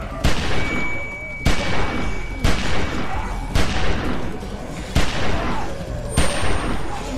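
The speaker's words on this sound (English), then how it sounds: "How many bullets does this gun even have?" Repeated gunshots in The Walking Dead video game, about six sharp loud bangs spaced roughly a second apart over a continuous noisy background.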